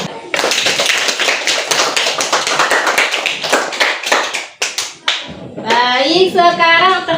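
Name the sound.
classroom clapping for a group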